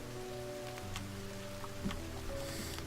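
Steady rain hisses throughout with scattered drop ticks, set against a low sustained hum and faint tonal music; no voices.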